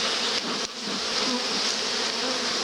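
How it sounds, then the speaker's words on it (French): A dense, continuous buzz of many bees in an open hive close by, a loud humming drone with no voices. "Vraiment ça, c'est envahi d'abeilles."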